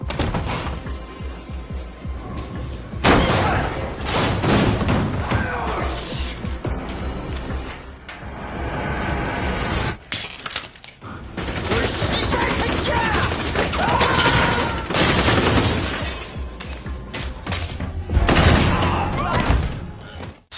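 Gunfire erupts inside a building in a film scene where police are shot, a dense barrage of loud bangs and thuds mixed with crashing, tense score and voices, pausing briefly midway before resuming.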